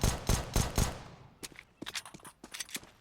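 Mac 10 submachine gun fire in Counter-Strike 2, a quick burst of four loud shots followed by scattered quieter clicks and footsteps.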